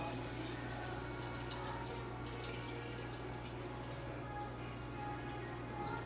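Chicken stock poured into a pan of braising carrots and leeks, a soft, steady liquid trickle, faint and continuous over low background hum, with no voices.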